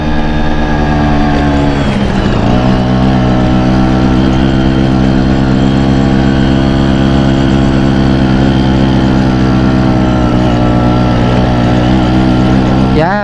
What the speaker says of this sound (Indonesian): motor saya ternyata nggak kuat nanjak gigi 3